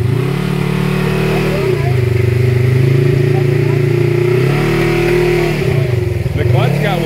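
A four-wheel drive vehicle's engine drives through the Verde River with a wet clutch, a loud continuous drone whose pitch rises and falls as it revs, close and dominant throughout.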